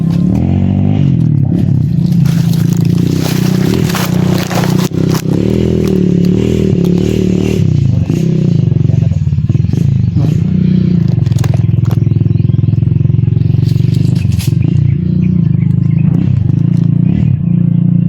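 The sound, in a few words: many motorcycles passing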